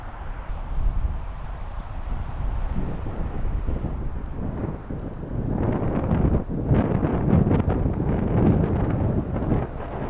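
Strong wind buffets the microphone outdoors on a golf course, a loud continuous low roar that surges and gusts, stronger in the second half, with no clear speech.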